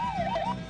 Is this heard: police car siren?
yes